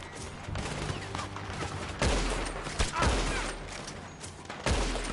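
Dense, continuous gunfire from the video game Red Dead Redemption 2, a rapid fusillade of loud shots with heavy booms under a steady game-audio wash.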